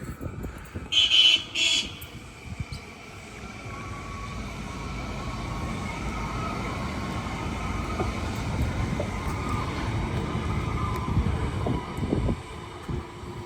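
A Parramatta light rail tram running on test, opening with two short horn toots, then a long rumbling roll and rail hum that builds and stays steady at moderate distance.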